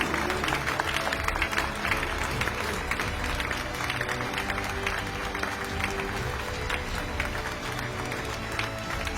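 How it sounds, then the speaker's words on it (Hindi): Sustained applause fills a film awards ceremony hall as the producer is honored, a dense steady wash of clapping and crowd noise running throughout without a break. "जोरदार तालियां हमारे प्रोड्यूसर मैम के लिए"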